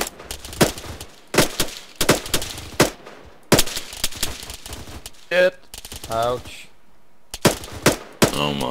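Gunfire in a combat video game, sharp rapid shots in short bursts and single cracks, loud and close, with a brief lull and a voice speaking midway before more firing resumes.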